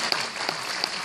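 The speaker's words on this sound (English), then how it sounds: "Round of applause for Coca-Cola." A brief burst of steady clapping from guests at a scholarship dinner honoring a sponsor, dense and even with a few sharper claps standing out.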